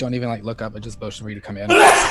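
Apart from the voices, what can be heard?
sneeze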